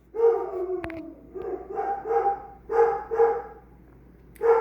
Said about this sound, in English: I want to make an apology again about my constant dog barking in the background